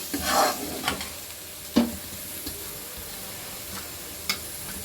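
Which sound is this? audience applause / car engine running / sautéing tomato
sautéing tomato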